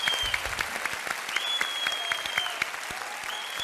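Audience applause at a gathering of Fenerbahçe fans, steady dense clapping throughout with scattered sharp claps and some faint tonal noise in the background.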